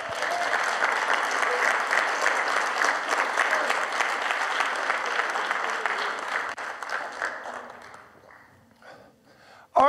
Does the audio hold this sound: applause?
yes